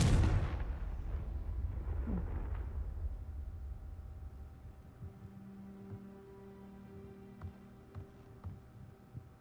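A Confringo fire spell from Hogwarts Legacy bursts with a loud, rumbling blast at the start, its roar decaying over a few seconds into a low, humming game ambience with faint clicks.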